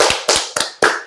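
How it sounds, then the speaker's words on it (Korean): Four sharp hand claps in an uneven rhythm, close and loud, each with a quick bright attack and fast decay, with nobody speaking. "다시 한번 박수 쳐야 되는 게"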